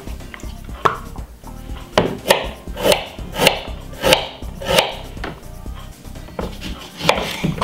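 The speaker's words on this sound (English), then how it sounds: "Then we're gonna cut up a few pieces of ginger." Knife chopping pieces of ginger on a cutting board for a healthy drink, a steady series of sharp, close knocks at an irregular but brisk rhythm with no talking.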